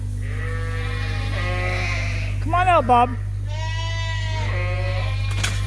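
Dorset sheep bleat repeatedly from a barn during lambing season, several wavering calls near and far with one loud close bleat midway, over a steady low hum while a person speaks.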